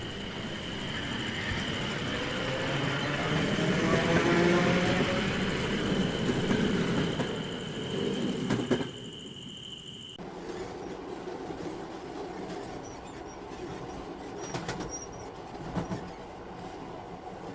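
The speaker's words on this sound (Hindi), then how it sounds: "और जैसे ही ट्रेन आती है अभय उसमें चढ़ जाता है।" A train pulls into a station at night. Its rumble and rattle build to a loud peak with a high squealing tone. The sound then drops off abruptly, leaving quieter clanks and faint metallic clicks.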